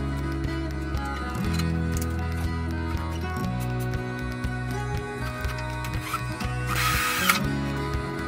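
A power drill runs in steady whirring bursts, drilling holes to fit a bumper and hitch on a 2016 Ski-Doo Renegade Ace 600 snowmobile, with clicks and a brief harsh grind near the end.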